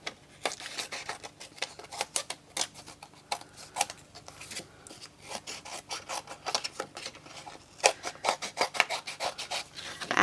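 Paper and card are trimmed for handmade cards, a quiet close-up of rapid scraping, rasping cuts and light ticking strokes in irregular bursts.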